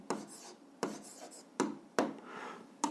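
A pen writes an answer on paper for a 7th-grade algebra exercise: four short, scratchy strokes, each starting with a sharp tap and trailing into a faint rub, spaced unevenly, quiet and close.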